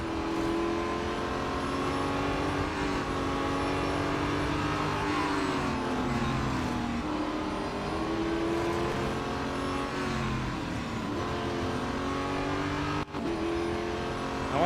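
Race car engine in the Real Racing 3 video game, a Duqueine prototype on a track with long straights and sharp corners, droning continuously with rising and falling pitch as it shifts through gears, loud and steady throughout.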